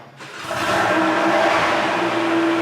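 A Porsche 993 is started and moved, a broad steady engine roar rising within the first half second and holding loud and close, with a sustained whining tone on top and no talk.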